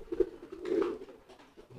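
A racing pigeon coos in a few low, throaty bursts, close and fairly soft, with no talking.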